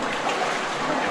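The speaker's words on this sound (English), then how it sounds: "you can just hear lots and lots of water here" Water rushes steadily inside a cave in Khao Sok National Park, a continuous close, full-band roar with no breaks across the short moment.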